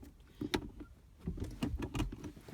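A 2018 Subaru WRX squeaking when shifted out of gear: soft, close creaks and clicks from the shifter, irregular and faint, with low cabin rumble beneath and no speech.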